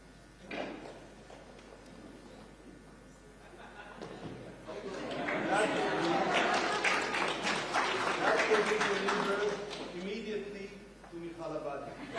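Applause from an audience at an official ceremony where Israel allocates land for a new U.S. embassy, swelling into sustained clapping that builds through the middle and stays steady, with voices and chatter mixed in.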